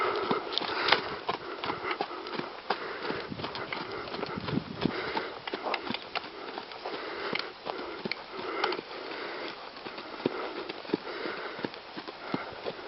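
A horse trots with a steady clip-clop of hooves, quick regular beats continuing throughout at moderate distance, with snorting breaths mixed in and no talk.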